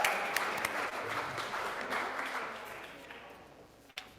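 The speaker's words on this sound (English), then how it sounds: "let's give these guys a big round of applause" Audience applause at a Rotary Club of Oakland meeting, a steady wash of clapping from a room of people that holds for about four seconds and then stops abruptly.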